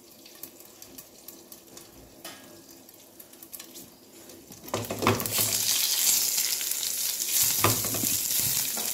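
Curry leaves dropped into hot oil for a village-style Bengali dhokla tempering, a quiet hiss that bursts into a loud, dense crackling sizzle and splatter midway, continuing close up with no talk.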